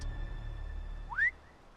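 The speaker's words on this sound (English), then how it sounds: "Wow, that's a camp whistle." A single rising whistle call blown at a military camp in a Game of Thrones game, short and clear, heard alone over a low ambient rumble.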